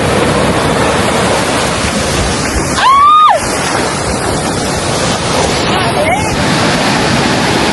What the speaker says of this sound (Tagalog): Pero mas malakas yung alon